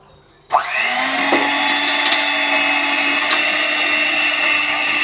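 A cheap electric cake beater bought at a local market switches on after brief quiet, then whirs steadily with a high motor whine, loud and close, running alone for several seconds.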